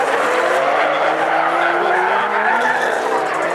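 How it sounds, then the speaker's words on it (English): Drift car tires squealing hard through turn 3 at a twin drift event, producing a loud, steady screech with roaring engine noise underneath, close and continuous throughout. "Exploding the tires there in turn 3, covering the course there."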